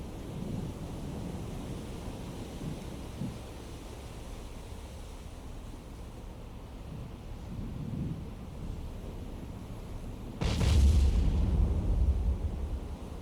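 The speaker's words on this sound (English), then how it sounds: "More big explosions. Shells are on target now." Naval gunfire shells explode in the Cold Waters game, fired from the battleship Iowa at a carrier group. A low rumbling wash builds, then one loud, deep boom rolls out near the end.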